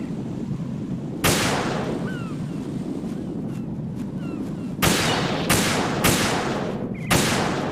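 Gunfire in Metal Gear Solid 2: about five sharp, loud shots ring out over a constant bed of wind and ocean-like ambience. The shots are spaced unevenly, with a cluster near the end.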